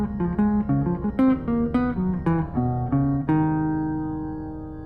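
Recorded jazz phrase over a tune, a run of quick melodic notes with accented attacks over a backing, ending on a long sustained note that fades out.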